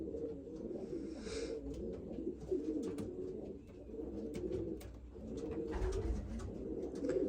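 Racing pigeons kept for the breeding season coo steadily in low, overlapping murmurs, a close and continuous chorus of bird calls with no talking.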